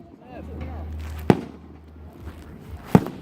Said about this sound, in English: I'm missing out on fireworks